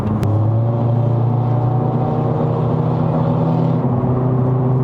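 A 2025 Honda Civic FE RS Facelift engine pulls hard at high revs while accelerating on a test drive in Malaysia, a loud, steady droning hum heard from inside the cabin with road noise underneath.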